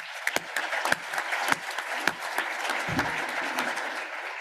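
Audience applause at a hybrid plenary group meeting honoring outgoing directors and new board members, steady clapping from a crowd filling the room with a few sharper claps standing out, no talk over it.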